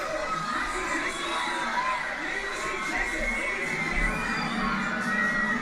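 A crowd screams and shouts in the Cloverfield VR experience, a dense, continuous wash of many voices at moderate level that holds steady throughout.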